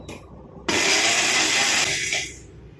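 A kitchen mixer grinder bursts on abruptly and grinds spices to a fine powder with a loud, harsh whir for over a second, then winds down and stops.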